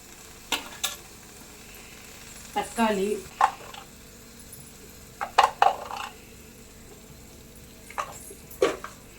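Intermittent scraping and stirring bursts in a pan as turmeric is stirred into a fenugreek dal mixture with tamarind, tomato and water, with a soft sizzle underneath, scattered irregularly across the clip and fairly close.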